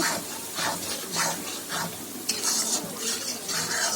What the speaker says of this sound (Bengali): চুলার আঁচটাকে হাইতে রেখে মশলাটাকে ভেজে নিচ্ছি